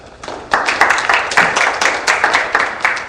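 An audience at a goal-setting seminar claps for a woman named Colleen, a burst of close, steady applause that starts abruptly and carries on at full strength to the end.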